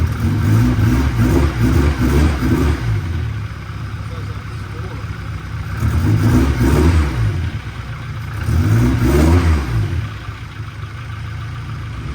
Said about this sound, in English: I can tell it has an exhaust leak from how it sounds.